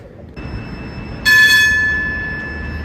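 A tram's departure signal in the UK sounds in a cold outdoor setting: a steady electronic tone begins, then a louder bright bell-like chime rings out and slowly decays over the rumble of the waiting tram.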